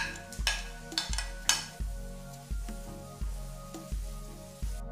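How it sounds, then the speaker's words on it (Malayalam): Ginger garlic paste frying with spices in a pan for a mutton curry, giving a soft steady sizzle with a regular series of stirring scrapes and taps, close and quiet, with no voices. "ഇഞ്ചിയും വെളുത്തുള്ളിയുടെയും ഒക്കെ പച്ചമണമൊക്കെ ഒന്ന് മാറി നന്നായിട്ട് മൂത്തു."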